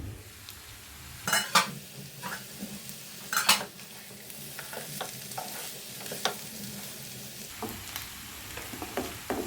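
Raw jackfruit and potatoes with spices cook in a pan over a low to medium flame, a steady close sizzle broken by several sharp scrapes and clinks of stirring, louder bursts near the start and mid-way.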